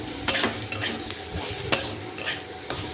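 Onion and potato fry in a pan while a spatula stirs them, making a soft continuous sizzle with a few sharp scraping strokes close by.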